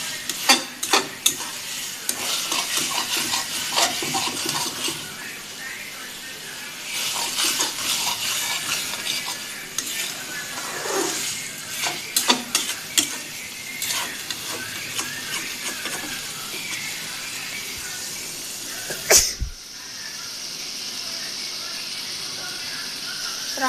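Chicken chaap pieces with homemade spices frying and being stirred in a pan, a steady close sizzle with scraping spoon strokes and clinks, one sharp knock near the end.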